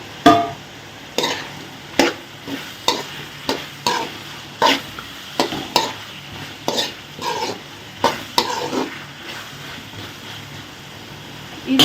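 Pieces of drumstick are stirred into a sizzling masala kuzhambu, with a regular run of loud scraping strokes of a spoon in the pan over a low, steady frying hiss.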